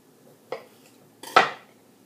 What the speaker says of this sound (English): You're going to start cutting your cherry tomatoes, and you're going to place them cut side up